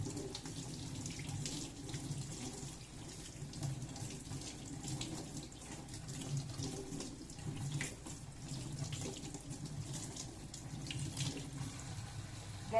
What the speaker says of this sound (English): Rinse hands under running water.